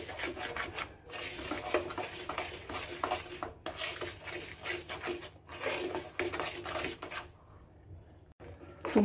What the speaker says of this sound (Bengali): এবার এর মধ্যে আমের পাল্পটা মিশিয়ে নেব।